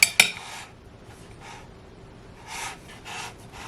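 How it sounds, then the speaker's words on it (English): A knife taps against a graham cracker crust on a mini cherry cheesecake, pressing it back into place: two sharp clicks at the start, then several soft scraping taps, close and quiet. "I'm just going to kind of see if I could just tap some of it back into place with the knife"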